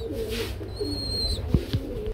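Pigeons kept for sale coo at close range, with soft low throaty calls and a few brief higher chirps over a quiet background.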